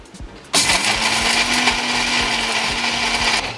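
After a short pause, a mixer grinder starts abruptly and grinds rock salt with a loud, steady whirring roar and a gritty rattle that holds for about three seconds before cutting off.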